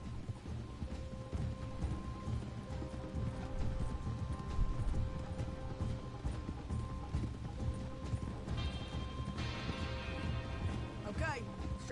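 Horse hooves clop in a steady rhythm through a Red Dead Redemption 2 soundscape, with faint mechanical clanks and a brief high whinny-like sweep near the end.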